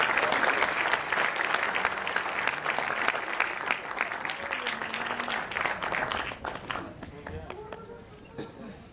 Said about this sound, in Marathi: आपल्या टाळ्यांचा स्रोत मात्र कमी नको.